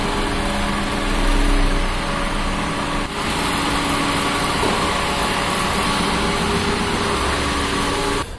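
Royal Enfield Bullet motorcycle engine running steadily nearby while the bike is moved indoors, a continuous loud mechanical drone with no talk.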